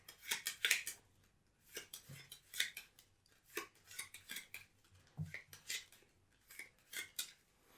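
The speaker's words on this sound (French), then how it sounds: "Donc je vais mélanger." Deck of playing cards shuffled during a card game, heard as a run of crisp, papery riffling bursts that come in uneven clusters, close and fairly quiet, with no talking.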